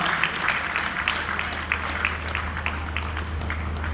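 A crowd at a Deepavali gathering claps in a loose, uneven round, with scattered louder claps standing out over a low steady hum from the hall.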